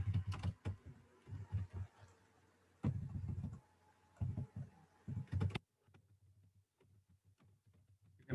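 Someone types on a computer keyboard in quick bursts of close, crisp keystrokes with short pauses between them, then a few sparse taps near the end.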